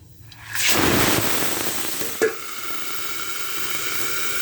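Black cumin and small crabs dropped into hot oil, a sudden loud sizzle that settles into steady frying hiss, with one brief sharp pop midway; close and no talking.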